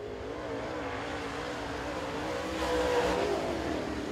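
A super late model race car on a qualifying lap at Crossville Speedway roars steadily at close range, its engine swelling louder for a moment before easing back, with no one talking.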